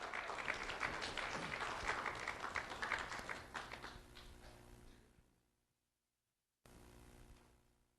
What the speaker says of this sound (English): Let's have a round of applause for Edwin Vadilo Iraldo.